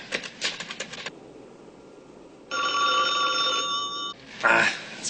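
After a quick series of clicking dial sounds, a telephone gives a steady, loud electronic tone that lasts over a second, then the line cuts to handling noise.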